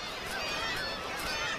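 Dense chorus of black-legged kittiwakes calling at a coastal cliff colony, many overlapping nasal cries forming a continuous, fairly loud wash of bird noise with no pauses.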